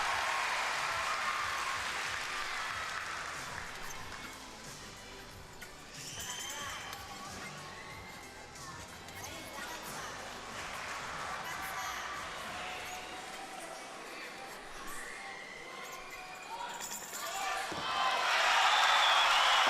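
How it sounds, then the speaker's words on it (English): Arena crowd at a men's artistic gymnastics World Challenge Cup in Osijek reacting after a high bar routine, a swelling roar and applause that builds louder toward the end, with a commentator talking over it. "A big reaction from the crowd after a big performance from Tin Srbic of Croatia"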